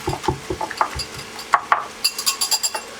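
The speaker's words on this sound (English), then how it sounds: "2 pinches of black pepper. And then whisk it again." A whisk clinks against a bowl while beating raw carbonara sauce of egg, parmesan and black pepper, a series of quick, close metallic taps and scrapes in an uneven rhythm.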